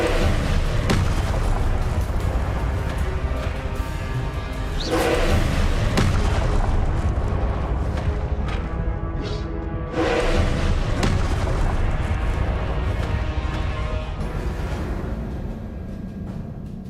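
Fiery Confringo spell explosions in the Hogwarts Legacy video game, loud booming blasts over sustained rumbling battle noise, with several heavy impacts spaced across the fight.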